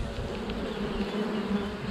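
Honeybees buzz steadily and densely at close range around a hive frame being swept off above the hive, a continuous low hum with no voices.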